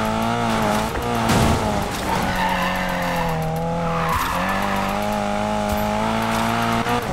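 Race car in the Need for Speed Payback video game, a loud sustained engine drone with tires squealing and skidding throughout, steady and close with no talk.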